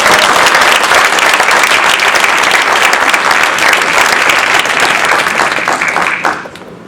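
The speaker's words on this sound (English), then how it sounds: "So give a big round of applause." A crowd at a Toastmasters international speech contest gives a loud, dense round of applause that holds steady for about six seconds, then quickly fades away.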